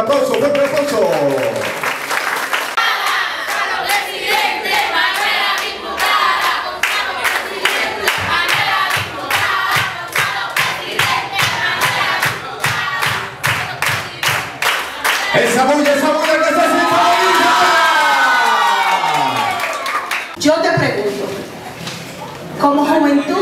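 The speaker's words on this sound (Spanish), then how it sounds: "Fuerte el aplauso." Clapping and cheering from a crowd at a Dominican Republic political rally backing PRD presidential candidate Gonzalo Castillo, with loud voices shouting and talking over rapid, steady claps for most of the stretch.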